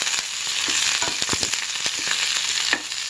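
Curry leaves and peppercorns frying in hot oil, an up-close crackling sizzle with quick irregular pops and spatters over a steady hiss.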